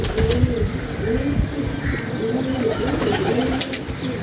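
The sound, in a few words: pigeons cooing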